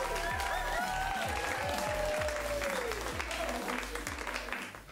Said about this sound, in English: Please give a big round of applause to Pedro Andrade!